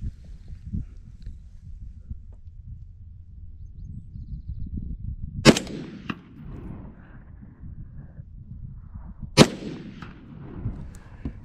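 Two sharp, loud rifle shots about four seconds apart come from an LR308 firing 50-year-old Hirtenberger surplus ammunition outdoors, each followed by a short echo over low wind rumble.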